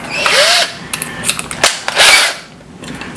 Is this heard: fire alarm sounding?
no